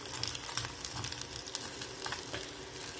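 Scrambled eggs with sausage sizzle loudly and continuously in a pan, the dense crackle close by with scattered sharper pops and spatter throughout.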